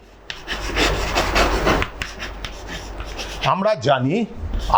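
Writing on a board during a Class X mathematics lesson makes a steady run of scratchy, rubbing strokes close by, then pauses as a teacher's voice speaks.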